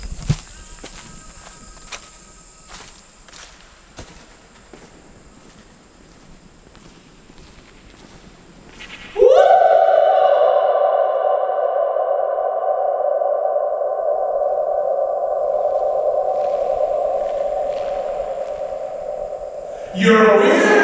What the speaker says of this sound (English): You can really hear the echo coming out as you leave.